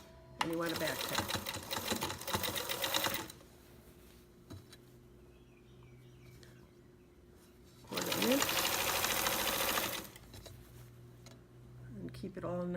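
A sewing machine stitches along the edge of a fabric casing in two loud, steady bursts of whirring, roughly three seconds each and separated by a quieter pause, with a brief start of a third run at the end.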